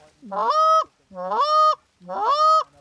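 A person imitates a Canada goose's moan call on a goose call three times, each a drawn-out, nasal honk that rises and holds, evenly spaced with short pauses between.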